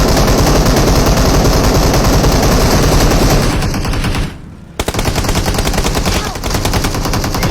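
Rapid machine-gun fire from a shooting video game rattles loud and close almost the whole way through, breaks off for a brief gap, then resumes.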